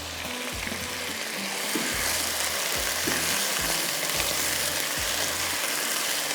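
Potatoes frying with mustard seeds and green chilli in hot oil give a steady, loud, close sizzle throughout, with soft periodic low thumps of stirring underneath.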